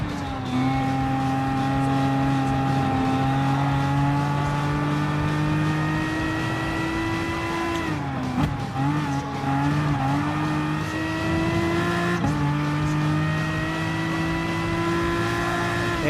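Race cars, including BMW M6 and Aston Martin machines, run in Gran Turismo Sport with a steady, droning engine whine that holds on for the whole stretch, briefly dipping midway before resuming, with no talk.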